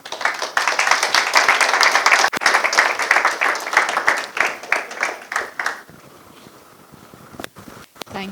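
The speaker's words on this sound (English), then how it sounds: "Round of applause, please." Audience clapping at a fellowship convocation, dense and steady for about six seconds before thinning into a few scattered claps near the end.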